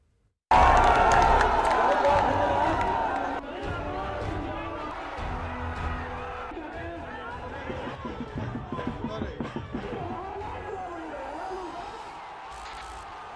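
A crowd gathered in front of Lalu Yadav's stage at a Bihar by-election campaign rally, loud cheering bursting in suddenly then settling into a sustained murmur of voices and shouts, with babble and occasional louder calls throughout.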